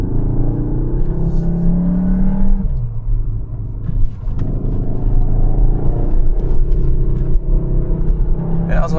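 A Cupra Leon estate's engine and exhaust drone steadily while driving briskly up a mountain pass, a loud low rumble from inside the car that dips briefly and then climbs again, with no talk over it.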